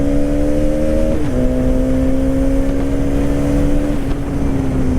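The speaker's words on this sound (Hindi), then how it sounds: "I am in 3rd gear and opening up the gas." A Hero Karizma XMR motorcycle accelerates hard in third gear, its engine note climbing steadily in pitch, dipping briefly at a shift, then rising again, loud and close with wind noise around it.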